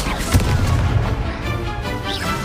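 A Confringo blast spell goes off in the video game Hogwarts Legacy, a heavy booming burst followed by a rumbling, crackling tail, loud and close.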